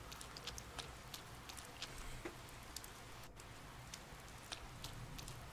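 Rain falling in the video game Persona 4 Golden, a faint, steady hiss of patter with small scattered drop ticks throughout.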